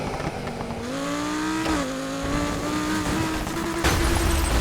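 A high-revving V10 sports car engine in the racing video game Need for Speed Heat, an Audi R8, holds a loud, steady rising note with gear-shift dips and a burst near the end.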